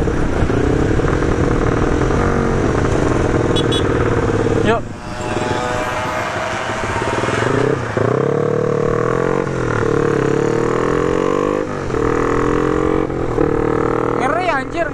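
Loud, close engines of a Honda Sonic, a Honda Tiger and a Yamaha Aerox revving together with rough, knocking tones and rising and falling pitch, while people talk over the noise.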